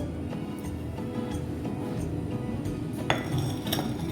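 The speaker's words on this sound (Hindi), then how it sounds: "पपीते को मैंने काटने के बाद इस जूसर में मैं डाल रही हूँ।" Cut papaya pieces drop into a juicer jar with soft thuds and light clinks, ending in a few sharper knocks against the jar over a quiet kitchen background.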